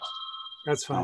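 A phone rings with a steady electronic tone for about half a second, then a voice speaks briefly.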